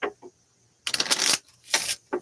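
Tarot cards shuffled by hand in a few quick riffling bursts, close and crisp, separated by short silences with a couple of soft taps at the start.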